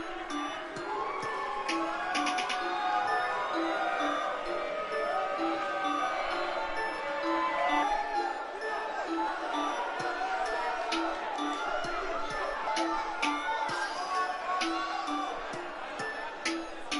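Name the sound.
wrestling crowd in Providence cheering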